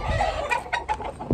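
Roosters in a flock of eight cluck in short, repeated bursts at close range, with a few sharper calls near the end and no talking.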